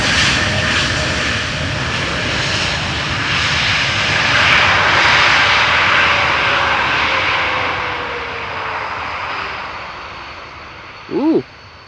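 Airliner jet engines at Amsterdam Schiphol Airport wind down in a long, loud, broad roar that slowly fades and falls in pitch, ending in a short, sharp sound near the close.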